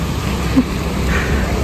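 Steady heavy rain drums in a dense, even hiss, like downpour on a car roof, with no other sounds standing out.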